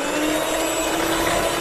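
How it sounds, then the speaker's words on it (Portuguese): An electric mixer runs steadily at high speed, whipping instant coffee into a creamy foam, its loud, even whir droning without a break and without talk. "Agora nós vamos bater com a batedeira aproximadamente"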